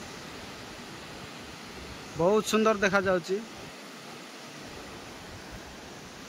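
Dokrichanchara Waterfall in Kalahandi District pours with a constant, even rushing hiss that fills the whole stretch, while someone speaks briefly partway through over the water.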